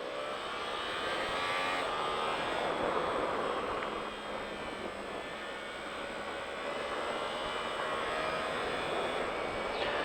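A Yamaha R1 sport motorcycle accelerates on a race track, a broad high-pitched engine roar that stays steady and fairly distant, with no talk over it.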